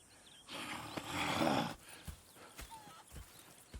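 A horse in Red Dead Redemption 2 snorts and whinnies loudly, followed by scattered hoof clops on hard ground.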